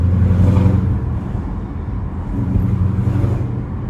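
A 2015-2017 Ford Mustang GT V8 fitted with a 2018 intake manifold idles and runs with a steady deep rumble, close and loud, the level swelling slightly as the revs shift.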